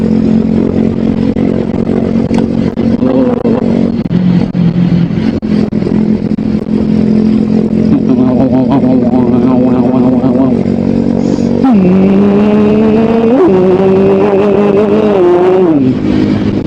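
A big bike motorcycle engine drones loudly throughout while riding, its pitch climbing and dropping as it revs and shifts, close and continuous.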